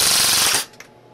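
A Silverback PP19 airsoft gun fires BBs at high speed, a loud rapid buzzing burst of shots lasting about half a second before cutting off abruptly, followed by a faint click.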